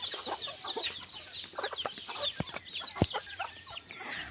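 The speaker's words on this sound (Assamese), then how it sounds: "এইবিলাকে মোৰ ফাৰ্মৰ লোকেল কুকুৰা ছাগলী" Local chickens cluck steadily on a small farm that also keeps goats, with overlapping hen calls, sharp individual clucks and short bursts near and far, and no talking.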